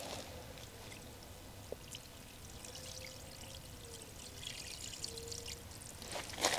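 Water that had sat in an AC condensate drain pipe is dumped out in a quiet, steady trickling pour with faint splashes, rising into a brief louder splash near the end.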